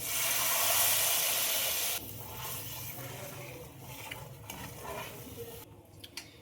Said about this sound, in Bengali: এবার জল দিয়ে দেবো। জল দিয়ে দিলাম, গরম জল।